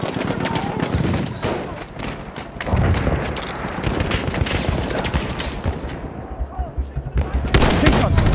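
Machine gun fire in the Battlefield 1 Sinai team deathmatch, with bursts of rapid shots and booming explosions mixed into a dense battle din, while a voice speaks over it.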